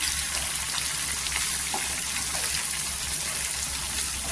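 Chopped coriander frying in hot oil with golden garlic for a garlic-peanut bhurka, giving a steady, even sizzle with a crackly, rain-like hiss throughout and no voices.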